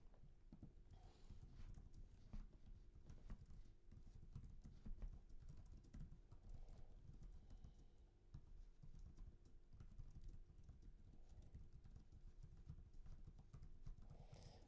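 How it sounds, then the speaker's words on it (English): Steady, quick tapping on a computer keyboard as a reply is typed out, close but quiet over a low background hum, keys clattering without pause for the whole stretch. "So maybe I'll just type in the response."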